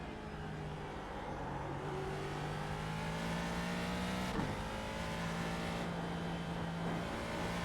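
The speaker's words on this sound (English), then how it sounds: "And we can listen to this amazing sounding car" Steady whine of a Ford GT2 race car engine in the iRacing video game at Spa, rising and falling through gear changes at a moderate distance, with no talking.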